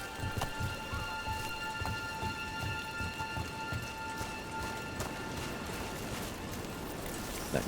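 Steady rain falls in Dragon Age: The Veilguard, a dense, even patter of drops with occasional sharper drips, continuous and close with no voices.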